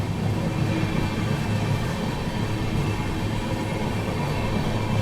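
A loud, continuous rumble and rattle of an Indian passenger train at speed as another express train crosses alongside on the adjacent line, a dense steady roar of wheels and wagons throughout with no voices.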